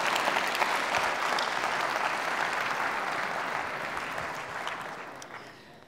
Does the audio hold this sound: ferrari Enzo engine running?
no